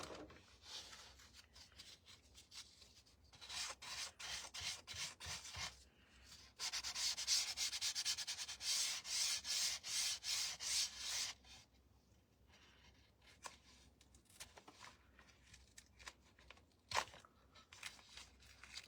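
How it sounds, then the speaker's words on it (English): Sandpaper rubbing along the edges of a scrap wood sign, a dry scratchy rasping in repeated strokes, louder bursts in the middle with quieter rubbing before and after, close up with no talking. "let's go ahead and sand off our edges here."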